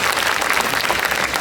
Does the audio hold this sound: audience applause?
yes